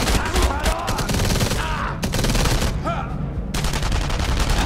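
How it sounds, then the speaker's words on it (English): Gunfire in the World War II shooter Enemy Front: rapid, dense bursts of automatic weapons fire, loud and close, with short pauses between volleys and some background voices. "Shooting at us."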